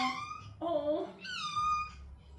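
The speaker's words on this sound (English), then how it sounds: "She only meows when she's scared" A black cat outdoors for the first time lets out two or three drawn-out, plaintive meows, close and moderately loud, with soft background noise between calls.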